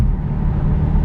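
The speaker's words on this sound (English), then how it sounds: "Obviously you can hear this car's exhaust" Low, steady exhaust rumble from a car running a straight exhaust after the catalytic converter, heard from inside while driving, a continuous droning hum with no voices.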